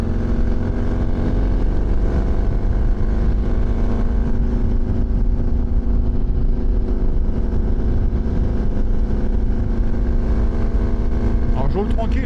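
A 750 XTZ motorcycle rides along a road in the Vercors, its engine droning loudly and steadily with rushing wind noise throughout, and a rider talking over it.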